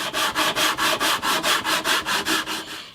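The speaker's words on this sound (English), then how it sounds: "So first off, I'm going to sand it off, get all that paint off." Sandpaper scrubs paint off the wooden fretboard of a vintage steel-string guitar in steady, rhythmic back-and-forth strokes, about a dozen even passes, close and loud with no talking.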